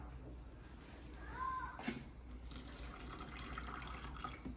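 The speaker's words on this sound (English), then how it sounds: "Let's put our water in there." Water poured into a food processor bowl of quiche dough mixture with eggs, a brief faint splash and trickle in a quiet kitchen, with a soft voice briefly audible.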